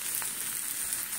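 Spices such as garam masala, fennel, cumin and dried chilli sauté in a pan with a steady, hissing sizzle, close and continuous, with no voices.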